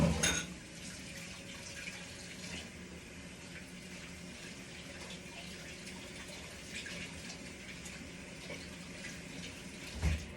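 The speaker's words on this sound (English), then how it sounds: "you can wash your hands and wash the bowl that you did this in" Water running steadily from a kitchen sink tap while hands and a bowl are rinsed, a constant hiss with faint clinks near the start and end, no talking.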